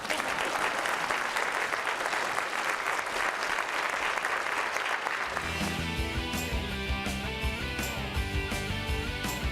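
Studio audience applause in a TV talk show studio, a steady wash of clapping that gives way midway to loud theme music.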